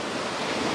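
Ocean waves roll and wind rushes past the microphone on a sailboat crossing the Atlantic, a loud broadband wash with following seas and wind, and no voices.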